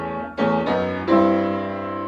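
Piano playing the opening of a song with both hands together, a few sustained chords struck in a slow, long-with-a-pause rhythm and left ringing, close and clear with no talking.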